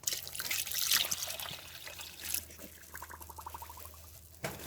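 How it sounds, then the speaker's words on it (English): White vinegar, three cups, poured into a pot to make a pickling brine for cherries, a steady close trickle and splash with a rising gurgle toward the end, no talk over it. "I'm just going to add 3 cups of white vinegar to it"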